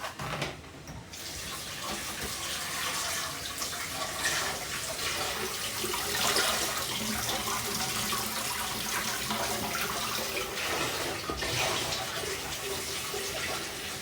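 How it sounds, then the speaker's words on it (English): Saltfish rinsed under a running tap, a steady rushing stream of water splattering in a sink, continuous and fairly close for the whole stretch. "So I just wash off some salt off of the saltfish before putting it in the pot."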